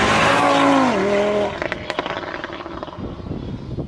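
An Audi TT RS launches hard on a street, its engine rising in pitch through a gear then cutting to a rough, popping exhaust crackle as the car pulls away.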